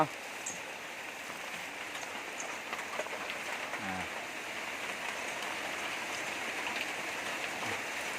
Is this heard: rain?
yes